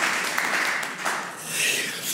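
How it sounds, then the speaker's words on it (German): Applause from an audience at a German panel discussion on healthcare and research, steady clapping close by that holds for about two seconds with slight swells. "Ihr Applaus"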